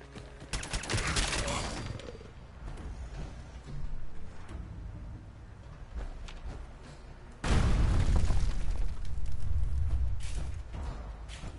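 Gunfire and blasts from a weapon being fired in a game come in loud bursts, a dense volley early, quieter intermittent shots, then a powerful booming stretch near the end.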